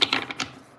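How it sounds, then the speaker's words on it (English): Playing cards being shuffled on a table make a quick burst of crisp, close riffling clicks and flutters that fades within a second. "My apologies if the shuffle is loud on the table."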